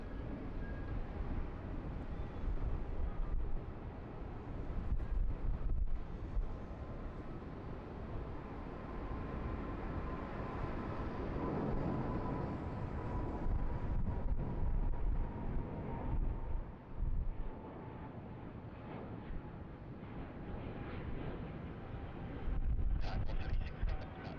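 A Thai Airways jet with GE90 engines landing at Sydney Airport on runway 34 left, a loud, sustained roar of engines and rushing air that swells and fades over about twenty-four seconds, heard from nearby.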